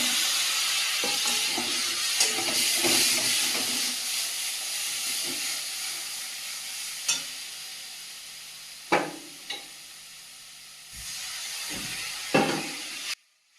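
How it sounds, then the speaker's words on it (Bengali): Spices sizzle and hiss in a hot pan after a splash of water is added, a steady frying crackle with steam that rises and fades, broken by a few sharp stirring knocks and clanks before cutting off abruptly. "সামান্য একটু জল দিয়ে দেবো মশলাটা ভেজে নেওয়ার জন্য"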